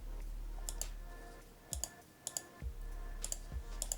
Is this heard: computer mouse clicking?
yes